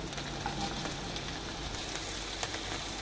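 Sliced onion and julienned capsicum frying in preheated oil, a steady broadband sizzle with soft crackles throughout, close and moderately loud, with no talking.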